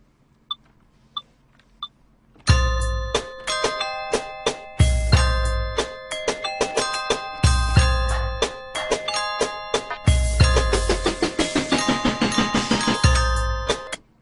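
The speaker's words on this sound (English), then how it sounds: "fill it in a little bit more with another layer of these bells, but higher" A drum machine pattern with layered bell tones in a higher bank, bright repeated chimes stacked over punchy kick hits in a steady looping rhythm, loud and alone after a few soft opening clicks.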